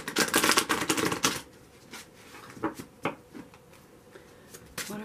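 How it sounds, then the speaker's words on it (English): A quick riffle of tarot cards being shuffled at the start, followed by a few soft taps and flicks of cards against a quiet background. "I can get these cards to shuffle."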